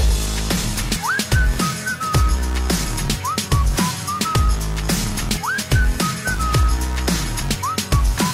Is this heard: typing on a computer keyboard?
no